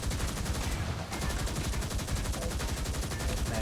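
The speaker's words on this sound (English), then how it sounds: "Gotta like park and shoot some enemies" Rapid gunfire from a car's mounted guns shooting enemies in the 2003 SpyHunter 2 video game, dense and continuous for the whole stretch over a steady engine-like roar, loud and close.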